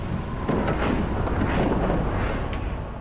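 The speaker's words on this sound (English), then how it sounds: "The wind gusts are upwards of 90 kilometers an hour." Strong highway wind gusts of around 90 km/h buffeting a trailer, a loud, broad roaring rush that surges and swells steadily across the whole stretch, close to the microphone with no speech.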